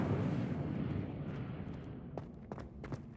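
Casting the Incendio fire spell in Hogwarts Legacy sets off a dense, roaring burst of flame that slowly dies away, with a few sharp clicks or taps near the end.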